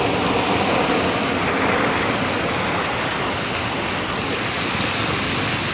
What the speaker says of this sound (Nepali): अनि त्यता आएको पानीको फोराहरू छ।